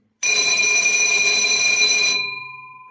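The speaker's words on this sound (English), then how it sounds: "The first one is a regular school bell, and this would mean the start and the end of the shift" A loud electric shift bell at a coal mine in Croatia rings continuously for about two seconds, then cuts off with a fading metallic ring.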